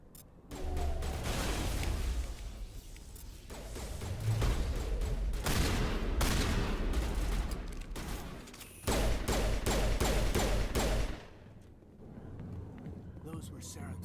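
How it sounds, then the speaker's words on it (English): Bursts of gunfire in the video game Mass Effect, loud and sustained with several dense volleys broken by short pauses, mixed with game effects and voices talking over the action. "Nobody heard any of that gunfire?"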